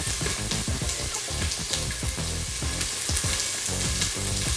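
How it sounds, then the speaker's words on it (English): Chopped onions browning and sizzling in a hot pan for rice, a steady close-up crackle of frying with dense popping and hiss, loud and continuous throughout with no talking. "I really like to brown my onions"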